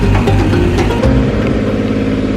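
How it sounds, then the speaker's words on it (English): A boat engine runs steadily at about 2,000 rpm, a loud continuous low rumble with a slightly uneven rhythm, close by and without voices. "Sometimes your engine has a little bit uneven revs."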